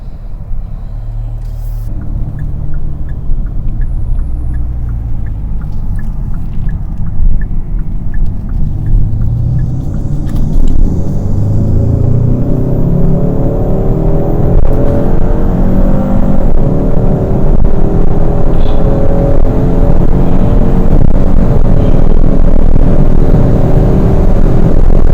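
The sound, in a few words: Hyundai Sonata N Line with cold air intake accelerating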